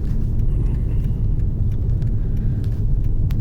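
A Mercedes-Benz car cruising along a snowy interstate during a winter storm gives a steady low rumble of road and engine noise, close and unbroken, with no talk.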